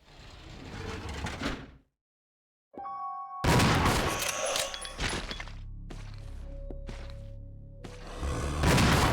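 Shotgun blasts in Resident Evil 0: a burst of sound, a silent gap, then loud booming shots and clattering impacts with a sustained tone and several sharp bursts, close and forceful.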